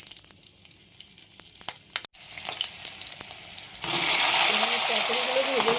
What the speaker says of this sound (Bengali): পটলগুলো ভেজে নিচ্ছি হালকা করে, লবণ হলুদ দিয়ে।